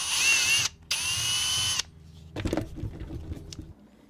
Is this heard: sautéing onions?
no